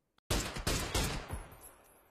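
Gunfire in the video game PUBG during a PCL pro match: three loud shots fire in a quick run, each a hard broadband crack with a short decaying tail fading into quiet.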